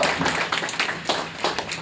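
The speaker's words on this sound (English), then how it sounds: "Can we give Michelle and Casey a big round of applause?" An audience at a talk gives a short round of applause, a few uneven bursts of clapping at moderate volume with no speech over it.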